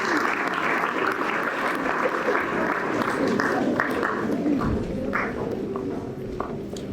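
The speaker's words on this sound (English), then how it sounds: "Please welcome them with a round of applause." Steady applause from a conference audience greeting panelists at a young leaders' entrepreneurship event, dense and sustained for several seconds before tapering slightly near the end.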